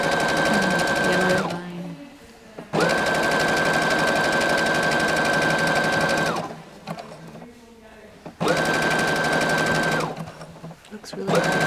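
A sewing machine stitching fabric printed with thermochromic ink, in three long, steady whirring runs separated by brief pauses, with a constant tonal hum while it runs and a voice talking in the gaps.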